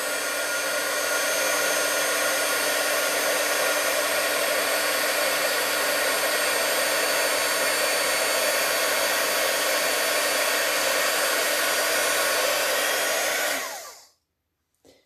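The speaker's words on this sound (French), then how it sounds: "Donc quand je chauffe, attention, ça va faire du bruit." A heat tool blows continuously while melting embossing powder on a stamped card, a loud steady whooshing hum lasting about fourteen seconds before it cuts off abruptly.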